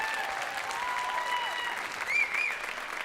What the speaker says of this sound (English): let's give a big round of applause to our Show Choir Combo